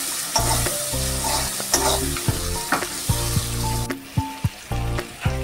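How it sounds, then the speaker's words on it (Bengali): Chopped tomatoes fry in a pan for an egg tadka, with a steady sizzle broken by repeated scraping strokes of a spoon stirring them, close and clear with no talking. "দিয়ে দিচ্ছি কুচিয়ে রাখা টমেটো কুচি, ভালো করে কষিয়ে নেব একসঙ্গে।"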